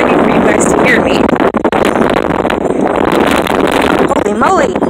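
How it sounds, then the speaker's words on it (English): Strong wind buffets an outdoor microphone in a garden, a loud, continuous rumbling roar that nearly swamps a person talking through it. "It's probably way too windy for you guys to hear me."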